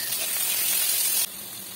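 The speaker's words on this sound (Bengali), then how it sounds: "তো বেগুনটা আমি ভেজে নিচ্ছি।" Eggplant frying in a wok with turmeric and salt gives a steady, close, bright hiss that drops slightly in level partway through, with no voices.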